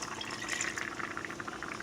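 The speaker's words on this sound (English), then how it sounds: "I'm going to add half a cup of water to this." Half a cup of water poured into a pan of tomato sauce for homemade lasagna, a close, steady liquid splashing and gurgling with faint sizzling underneath, no talking.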